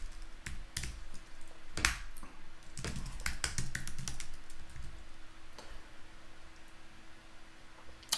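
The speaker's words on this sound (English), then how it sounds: "I'm always very nervous when I'm typing my password with my camera up there." Keys clatter on a computer keyboard as a password is typed, with irregular close clicks and taps in short bursts and pauses, alone over a faint steady hum.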